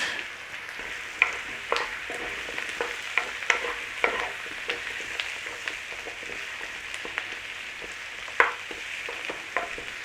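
Potatoes tumbling into a chicken stew pot and being stirred, with a steady close sizzle of frying underneath and repeated sharp scrapes and clinks of the spoon against the pot, no talking.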